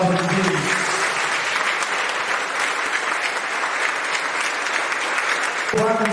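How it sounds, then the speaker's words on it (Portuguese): A church congregation at Catholic Mass applauding after the Gospel reading, a dense, even roar of many hands clapping that fills the space for several seconds, with a voice speaking briefly just before and just after. "Aplaudamos a palavra de Deus."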